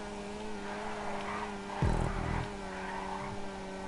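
A Weeny Issi Classic car in Grand Theft Auto 5 holds a steady, high-revving engine drone, with a brief loud surge and rough burst near the middle before it settles back to the same sustained whine.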